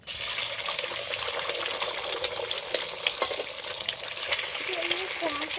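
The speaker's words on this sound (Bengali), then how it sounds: "ডিমগুলো সব কড়ার মধ্যে দিয়ে দিচ্ছি।" Three eggs frying in oil in a wok for chow mein, a steady close sizzle and crackle running throughout, with faint clinks of a utensil near the end.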